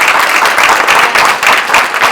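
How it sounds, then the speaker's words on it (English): Loud, dense applause from a crowd at a Zeeland city council candidate forum, many hands clapping together in a steady, close roar for the candidates. "so let's give them a big clap"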